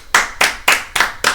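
Five sharp, evenly spaced hand claps from one person, close and loud, given as a quick three-second clap for an uncle during a hockey talk show. No voices.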